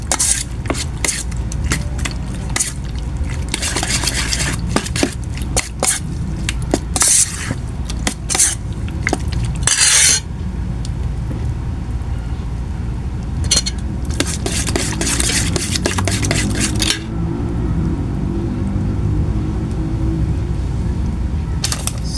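Egg is mixed into seasoned calamares in a bowl with a utensil, giving quick irregular clinks, scrapes and wet sloshing bursts close by that fade to a softer, sparser stir toward the end.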